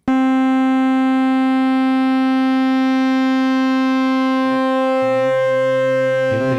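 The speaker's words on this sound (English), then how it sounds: "The saw wave can have weird math done to it. It sounds like this." A bright, buzzy synth saw tone holds steady, then shifts pitch with a swirling, phasing wobble near the end, loud and alone.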